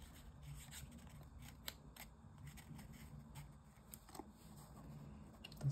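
A paper trimmer slices through paper in a few quiet, brief cuts and scrapes during origami box crafting, faint and close against a soft room background with no talk.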